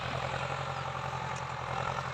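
A Ford 5000 tractor engine labors while plowing hard soil, a steady low diesel throb with a repeating rhythmic pulse, moderately close and unbroken, no voices over it.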